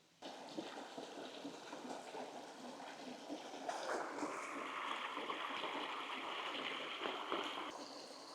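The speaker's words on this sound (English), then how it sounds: "As the water is boiling" Water boils in a pot on a camp stove, a faint, close, steady bubbling and hissing rush that swells a little louder partway through, with no voices.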